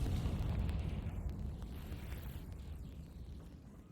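A Confringo fire spell in the game Hogwarts Legacy goes off with a loud, deep rumbling blast that starts at full force and slowly rolls away over a few seconds.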